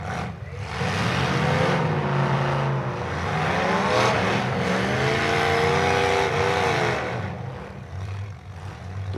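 Demolition derby cars in a team derby event drive and rev continuously, a loud, dense roar of engines with rising and falling revs and rumbling through the whole stretch, no clear speech on top.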